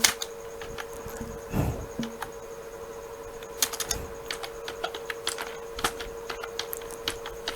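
Scattered key clicks from a computer keyboard as a website tagline is typed, light irregular taps close by over a quiet background hum, with no talk.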